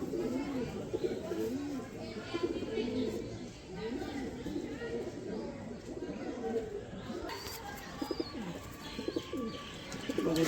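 Kalsari pigeons coo in soft, repeated low murmurs, close by and steady throughout, with faint chirps mixed in.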